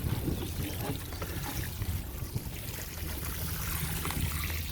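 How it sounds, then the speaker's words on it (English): Water pours onto the soil around a newly planted windmill palm, a steady close splashing trickle that continues without speech. "I'm just going to water it a bit more right now."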